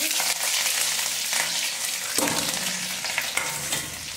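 Cumin seeds and green chilies frying in hot oil for a besan curry, a loud continuous sizzle with crackling pops and the scrape of a spoon stirring close by.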